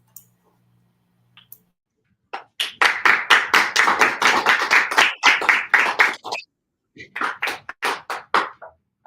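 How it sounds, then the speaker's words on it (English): Clapping during a livestreamed tech talk on microservices, containerization and orchestration: two bursts of crisp, close, rhythmic claps from a single person or a few, split by a short pause, with no talk over them. "Let's give it a round of applause."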